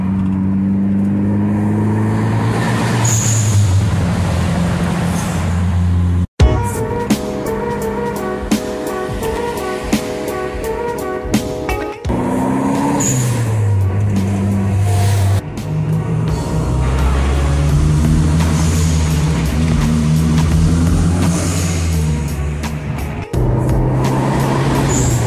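Mitsubishi Eclipse with a turbocharged 4G63T engine, revved up repeatedly, loud and close: a steady idle rumble broken by several sharp revs and cuts.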